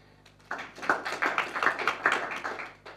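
A short burst of applause from a small group, steady clapping close by that carries on for a few seconds.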